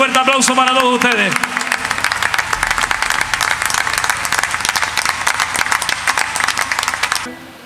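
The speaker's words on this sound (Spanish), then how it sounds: "Un fuerte aplauso para todos ustedes." An audience in Telde breaks into strong, dense applause after a spoken phrase, the crowded clapping running steadily for several seconds before cutting off.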